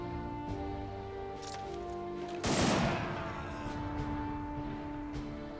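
Rapid gunfire in the World War 2 game Headquarters during an Omaha Beach landing battle, with a sharp burst of shots near the middle over steady background battle ambience and scattered distant reports.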